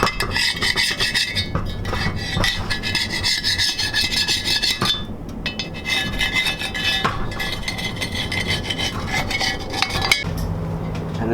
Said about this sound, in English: you need to go around this and get the rest of the silicone off